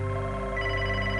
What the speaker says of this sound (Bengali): নির্ঘাত বল্টুর মায়ের ফোন, আমাদের হয়েছে এক জ্বালা।